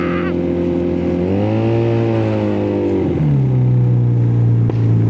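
A custom Honda Spacy 220cc scooter converted to a two-cylinder engine revs loudly and up close, its pitch climbing, holding, then dropping and surging again in one continuous, steady roar.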